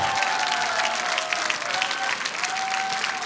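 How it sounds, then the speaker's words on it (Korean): A standing audience at a Liberty Unification Party assembly applauds steadily, a dense wash of clapping holding at an even level throughout, with a faint tonal line running beneath. "일어서서 박수."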